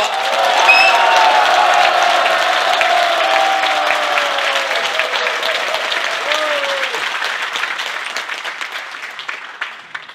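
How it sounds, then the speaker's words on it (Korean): A large crowd at a South Korean political rally for the launch of the United Future Party gives loud, sustained applause for about ten seconds, mixed with cheers and a faint voice, slowly tapering toward the end. "여러분의 위대한 결단에 더욱 큰 박수 한번 보내드립시다"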